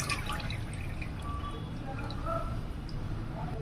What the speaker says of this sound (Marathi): डाळ असं छान तीन ते चार पाण्याने स्वच्छ धुवून घ्यायची